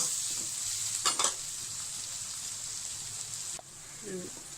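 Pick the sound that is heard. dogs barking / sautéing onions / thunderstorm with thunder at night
sautéing onions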